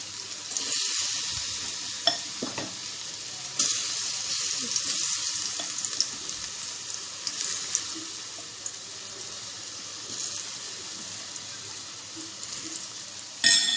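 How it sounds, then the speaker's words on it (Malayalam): Cauliflower fries in a small amount of oil, giving a steady, close sizzling hiss with a few faint clinks and stirring sounds and no talk. "കുറച്ച് എണ്ണയിൽ വറുത്തെടുക്കാൻ നോക്കാം"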